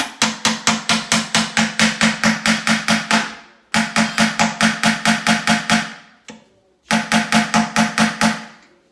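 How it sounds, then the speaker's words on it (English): A hammer strikes a hanging planter to punch drainage holes, sounding as rapid, evenly spaced loud knocks in three bursts of about a dozen blows each, close by with short pauses between. "you're just gonna hammer a couple holes in there just for some drainage"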